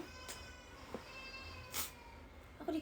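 A pet cat meows a few times indoors, faint and somewhat distant over a steady background hum, with no talking.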